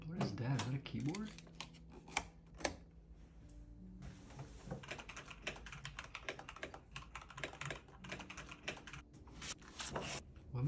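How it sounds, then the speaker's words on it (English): Rapid clicking keystrokes on a computer keyboard patter in uneven bursts for several seconds, close and fairly crisp, with a few heavier thumps mixed in and a voice talking at points. "Is that a keyboard?"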